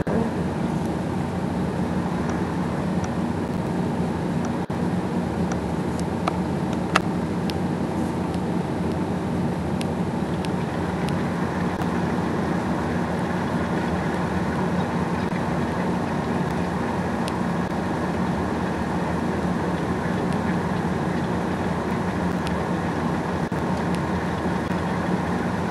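Steady engine drone of a tractor hauling a cultivator that is too big for it in Farming Simulator 15, a continuous low hum running unbroken and fairly loud, with no talk over it.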